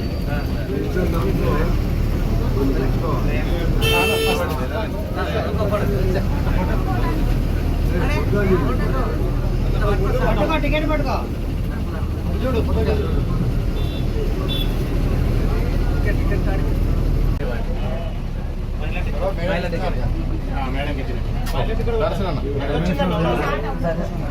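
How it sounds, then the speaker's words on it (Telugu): Inside a moving bus, a constant engine and road rumble runs under steady chatter from passengers, with a brief higher horn-like tone early on. "బస్సులో వెళ్తున్నాను ఇంకా ముందు"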